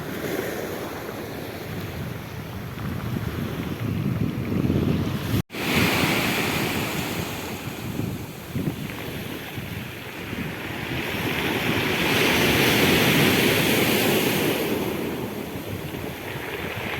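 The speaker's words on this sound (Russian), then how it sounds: "Просто ради того, чтобы послушать, как волна катает камешки." Sea surf washes steadily over a pebble beach, with waves rushing in and drawing back over the stones in a continuous close roar, and wind buffets the microphone throughout.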